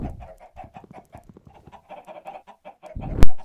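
A Minecraft chicken clucks in a quick run of soft, repeated clucks, close and fairly quiet, ending with a sharp louder click.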